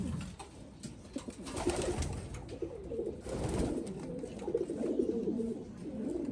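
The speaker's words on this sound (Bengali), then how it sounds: "এই মুহূর্তে যে কবুতরটি আমার হাতে নিলাম সেই কবুতরটি হচ্ছে বাবার দিক থেকে কিটেল আর এপ্রিল" A Kitel/Avril x Sticker Donckers/Cavendish racing pigeon, held in hand, gives a steady run of soft, throaty coos that continue close and clear throughout, with no talking.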